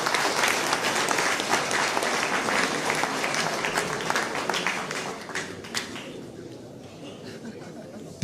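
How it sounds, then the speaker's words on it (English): An audience at a sport awards ceremony applauds with sustained, dense clapping that gradually thins and fades toward the end. "Let's give him another big round of applause for Mr. Paul Hendricks."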